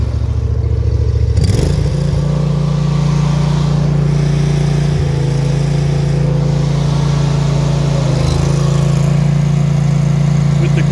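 An AS 940 remote-controlled mower runs at full ground speed with a loud, steady engine drone and a strong low hum, with a brief clatter near the start and a near, continuous sound throughout.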